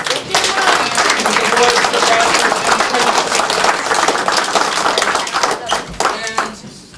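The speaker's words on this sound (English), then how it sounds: "a round of applause to those guys who served" Audience applause at a Scout troop Court of Honor, with dense, lively clapping from a crowd filling the room at close range, tapering off toward the end amid a few voices.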